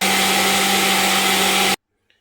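A blender whirs at full speed mixing ayran, a salted yogurt and water drink, with a loud steady drone, then cuts off abruptly into near silence with a faint click.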